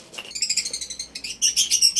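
Racing pigeons at a Tuguegarao race lap arrival, with rapid high chirping and twittering calls repeating in quick bursts, fairly close and steady over a faint low hum.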